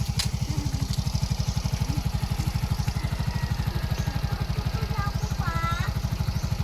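A motorcycle engine idles nearby with a steady, rapid low chugging pulse that holds even throughout, while faint voices and a brief squeak sound in the background.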